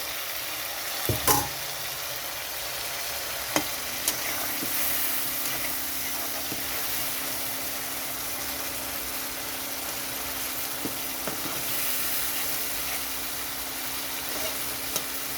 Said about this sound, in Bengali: এখানে ভেজে রাখা মাছ দিয়ে দিচ্ছি